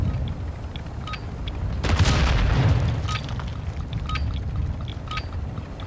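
A proximity mine goes off in the Call of Duty DMZ video game, one heavy booming blast with a rumbling tail, set in ongoing gameplay noise and distant gunfire.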